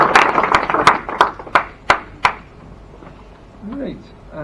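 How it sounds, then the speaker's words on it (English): Several people clap for a speaker at a property networking meetup, a brief ragged burst of claps that quickly thins to a few loud single claps up close before stopping. "give Paul a big round of applause"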